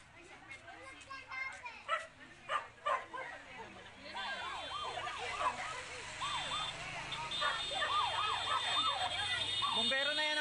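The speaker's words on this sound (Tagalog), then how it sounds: "Bumbero ng San Pedro yun" Fire truck siren wailing at a warehouse fire in San Pedro City, Laguna, its rising and falling sweeps growing louder as it approaches, mixed with dog barks and people talking nearby.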